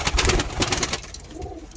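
Mardin flight pigeon cooing close by, a few throaty rolling coos in quick succession that fade into softer sounds.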